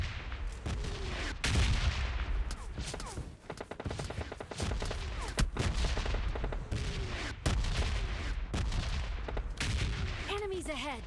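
Gunshots from behind in PUBG Mobile Lite: dense bursts of rapid gunfire and booming shots throughout, loud and continuous, under busy game noise.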